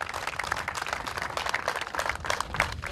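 An outdoor audience at a district football Super Cup event in Cimișlia applauds a guest of honour, steady crackling handclaps from a modest crowd throughout, moderately loud and without talk.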